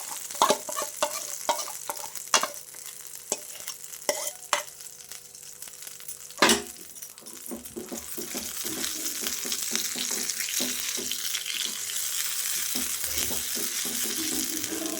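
A spatula scrapes and stirs a pea filling drying in a hot pan for kachori, with sharp clicks and knocks over a light sizzle that grows to a steadier hiss toward the end.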